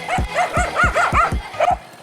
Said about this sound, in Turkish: köpek saldırılarından da kurtulduk